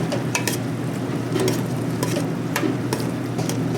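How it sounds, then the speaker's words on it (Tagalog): Red and green peppers are stirred into simmering chicken afritada, a loud constant sizzle broken by repeated scraping and clinking strokes of a spoon against the pan. "lagay na natin yung red and green pepper. Haluin na natin."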